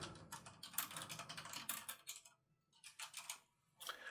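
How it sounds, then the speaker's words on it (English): A computer keyboard clacks in quick, close bursts of keystrokes, pausing briefly twice before the typing resumes. "So as soon as I finish typing it"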